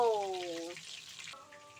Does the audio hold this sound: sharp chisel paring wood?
no